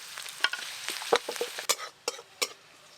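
Chopped garlic and ginger fry in white oil in a wok, with a soft sizzle broken by a run of sharp spatula scrapes and clinks at an uneven rhythm, close by and without talk.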